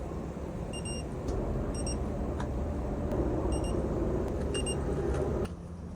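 Short high electronic beeps from a torque wrench reaching its preset torque sound in pairs several times over a steady low mechanical hum, near and fairly clear.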